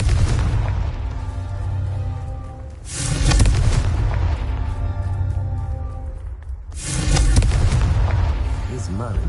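Booming blasts of the Confringo fire spell in Hogwarts Legacy, three heavy explosions with rumbling tails, each rising loud then fading into a low roar before the next.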